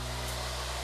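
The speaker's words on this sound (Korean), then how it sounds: "드라이기 소리를 매우 싫어한다는 점" A hair dryer runs close by, drying a wet cat in a bathroom, with a loud, constant whooshing roar and a low motor hum, unbroken for the whole moment.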